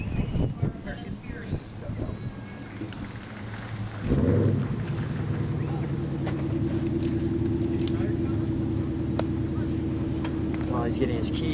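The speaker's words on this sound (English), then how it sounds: "I'm going to get towards the engine here and get a little exhaust now." A 1970 Plymouth Cuda AAR engine turns over and settles into a steady, close idle exhaust rumble that runs on for several seconds after an earlier stretch of noisy handling.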